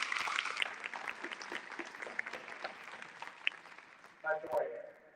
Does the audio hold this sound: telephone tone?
no